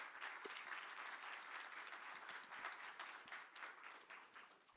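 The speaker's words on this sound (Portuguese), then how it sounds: "Uma salva de palmas também para o professor Natan" An audience at a ceremony for the International Day of Persons with Disabilities applauds, a dense, steady wash of many hands clapping at moderate distance, continuous throughout without letting up.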